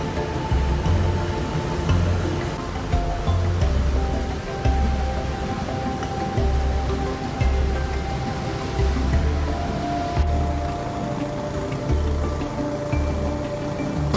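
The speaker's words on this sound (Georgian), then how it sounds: "აი საიდან იღვრებოდა წყალი." Water gushing steadily from a damaged underground water pipe beside a large pothole, a continuous rushing wash with a low rhythmic thumping underneath, fairly loud and close, with no talk.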